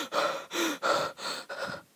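Heavy, raspy breathing comes through a window in Fortnite, five loud gasping breaths in a steady rhythm, each close and breathy, with no talking.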